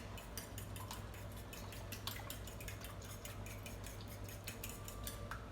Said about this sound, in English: I'm going to go ahead and whisk your eggs